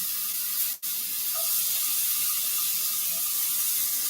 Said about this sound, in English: Ah, the sound of sizzling bacon.